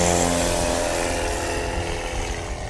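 An FX3 light aircraft's propeller engine drones loudly and steadily while landing at a STOL competition practice in Hartford, Wisconsin, a close, continuous buzzing roar with no voices.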